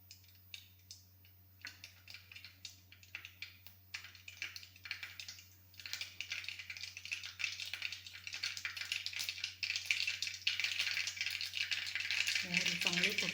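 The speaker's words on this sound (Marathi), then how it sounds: "मोहरी चांगली फुटली आपली" Mustard seeds crackle and pop in hot oil in a kadhai, sparse at first and building into a dense, rapid close spluttering, with a voice briefly speaking near the end.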